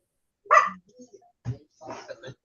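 A dog gives a sharp bark followed by a few softer yips and a low woof, close by, with a voice mixed in.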